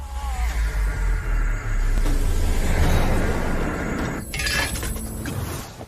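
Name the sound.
mask shattering from a punch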